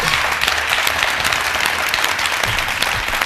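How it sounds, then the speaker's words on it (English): A debate audience breaks into steady, dense applause, many hands clapping loudly and continuously with no pauses and no voices over it. "A round of applause for debate 1."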